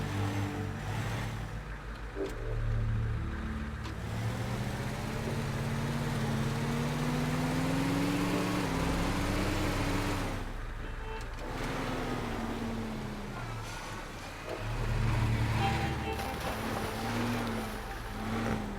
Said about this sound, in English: Drive a truck backwards, great.